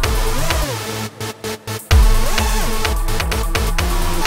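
Heavy synth parts playing without transient processing, a loud dense mix of sustained pitched tones and gliding bass notes, briefly chopped into rhythmic gated stabs before the full sound returns.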